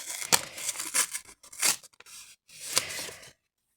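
Several sharp ripping bursts as plastic marker packets are torn open at their notches, close and crisp, separated by short pauses, with rustling crinkles between them.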